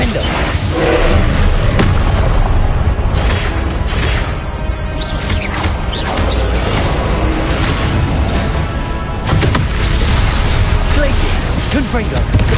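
Confringo spell blasts in Hogwarts Legacy on PS5 thump and boom one after another inside a loud, dense wash of spell-combat noise that never lets up.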